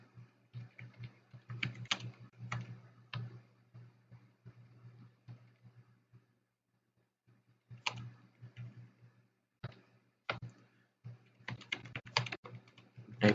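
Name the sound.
typing a message on a computer keyboard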